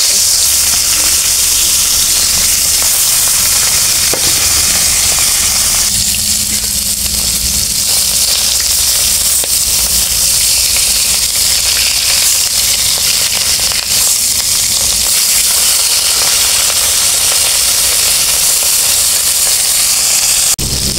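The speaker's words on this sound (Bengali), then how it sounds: "মাছ ভেজে করা হয়ে গেছে" Hilsa fish, rubbed with turmeric and salt, sizzles in hot oil in a kadai, a continuous loud crackling hiss with occasional sharper spits and pops, steady for the whole stretch without any voices.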